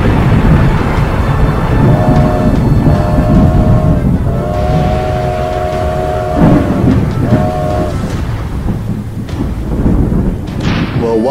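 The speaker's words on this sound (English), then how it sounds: "The biggest storm to hit Tanpost in 150 years." A heavy thunderstorm in the Planet Coaster video game, with a constant loud roar of rain and rumbling thunder throughout, plus recurring tonal alarm-like tones drifting over the storm.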